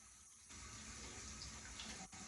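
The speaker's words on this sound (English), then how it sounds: "let me rinse my hands off" Hands are rinsed under a running tap: a steady, close rush of water that thickens after a brief quieter start, with a short interruption near the end as the hands move through the stream.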